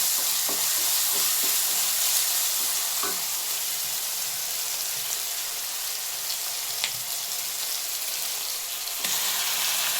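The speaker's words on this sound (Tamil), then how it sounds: "தக்காளி போட்டு வதக்குங்க" Tomatoes sautéing in a pan with salt and turmeric, a constant frying hiss filling the whole stretch, with a few light scrapes and taps of a utensil early on, close and steady.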